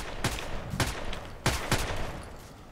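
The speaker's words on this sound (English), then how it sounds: "Who's shooting?" Gunfire in the shooter Contract Wars: a handful of quick, fairly faint shots in two close pairs, echoing over a steady background hum.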